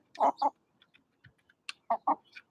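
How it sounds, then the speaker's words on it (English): Several chickens clucking nearby, short bursts of clucks in two clusters with faint scattered peeps and small movements in between, no talk. "there's some of the chickens"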